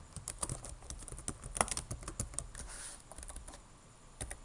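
Rapid, uneven keystrokes on a computer keyboard while JavaScript code is typed, close and fairly quiet, with bursts of clicks and brief pauses.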